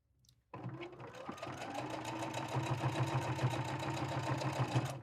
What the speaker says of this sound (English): we're just gonna sew straight across that line.